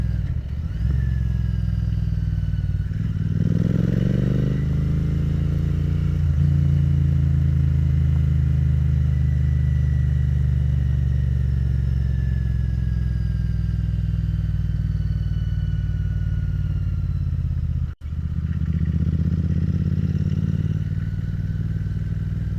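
A cafe racer motorcycle riding over a corrugated dirt road, its engine droning steadily and close with a low rumbling rattle and a brief dropout near the end.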